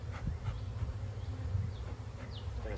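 Honey bees buzz after being smoked at an open hive, a soft steady hum of many insects with a few louder bees passing near.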